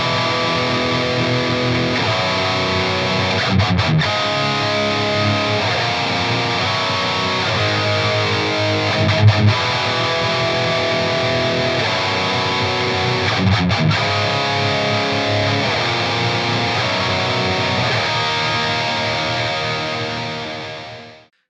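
Electric guitar through a Mesa Boogie 90s Dual Rectifier reissue two-channel high-gain amp, heavily distorted, churning riffs with chugging palm-muted bursts and brief stops, loud and continuous for about twenty seconds with no talking.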